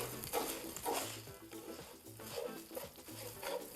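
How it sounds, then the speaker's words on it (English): Rice toasting in oil and butter in a pan for shrimp risotto gives a faint, steady sizzle, with soft stirring scrapes coming and going at an even pace. "So now we're going to add the rice. And we're going to cook this, make sure it's all coated with the oil."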